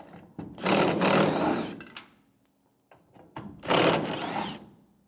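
A 1/4 inch (7mm) socket backs out the mounting screws on the rear fuel tank filler neck of a 1992-1996 Ford F-150, heard as two loud, close bursts of mechanical ratcheting separated by a quiet pause with small clicks.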